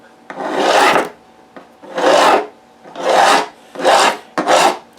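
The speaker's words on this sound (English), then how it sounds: "you can actually hear the resistance to the file as you get closer to the mark" A file rasping back and forth over guitar frets, five long strokes with short pauses between, close and loud.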